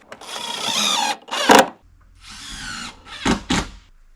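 A power drill driving tiny reverse-threaded specialty screws through a window flange in a winter cabin build, several close, loud whirring bursts with short pauses and thuds between them.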